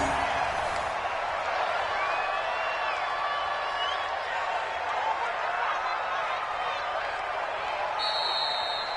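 Stadium crowd noise from an NFL video game on PS4 at a Chargers win, a steady broad roar of the crowd running throughout at even loudness, with no clear cheers or claps standing out.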